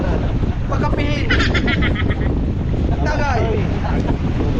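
Strong wind buffets a boat out at sea, a loud, steady roar lasting throughout, with people shouting and talking over it.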